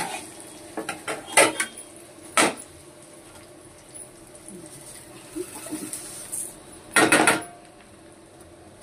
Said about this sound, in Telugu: వేగినాక నేను ఇందులోనే రవ్వ సేమియా కలిపి వేగిస్తున్నానండి.